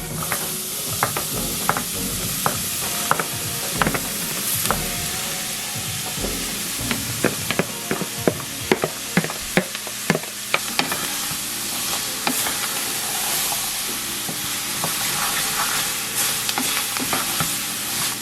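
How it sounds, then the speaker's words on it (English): Vegetables stirred in a roux in a pot, steady sizzling with scattered spoon scrapes and clacks, close and continuous. "you just want to kind of try to coat the veggies in the roux"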